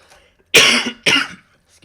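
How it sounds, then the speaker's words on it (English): Two sharp, loud coughs in quick succession from a person nearby, each a broadband burst with a short tail, followed by quiet. "Got a bit of a cough."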